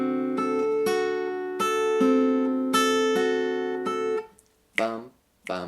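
A guitar plays chords in a long-short swing rhythm, several ringing strums in steady succession, followed by a short spoken voice at the end.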